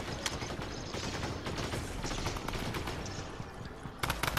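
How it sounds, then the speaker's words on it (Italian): Gunfire in the video game Fortnite, fairly quiet bursts and single cracks over a busy game background, with a sharper cluster of shots at the end. "Lo sparo."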